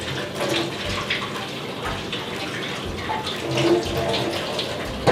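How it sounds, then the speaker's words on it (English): Tap water running steadily over soaked almonds being rinsed in a sink, a continuous close splashing hiss with slight shifts as the nuts are moved under the stream. "rinse the nuts out really well under running water"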